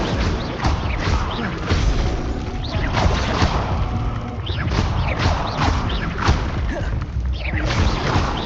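Fire spell Incendio cast repeatedly in the video game Hogwarts Legacy, a dense run of loud whooshing bursts and crashing impacts with dull thuds, continuous and busy with no gaps.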